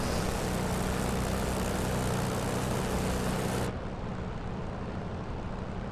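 A propeller aircraft engine drones steadily in a flight simulator, a dense, even broadband roar with a low throbbing hum, loud and close, dipping slightly in brightness partway through but continuing without talk.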